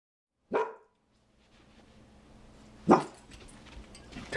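Dog barks twice, a sharp near bark followed about two seconds later by a second one, from a Chihuahua/Pug mix or Staffordshire Terrier, with quiet indoor background between.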